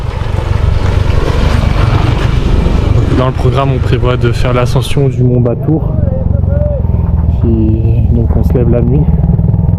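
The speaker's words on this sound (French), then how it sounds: "Oh, attendez, il y a une moto." A motorcycle passing by on a road in Bali near rice terraces, a loud buzzing engine with wind noise rising and fading under someone talking in French.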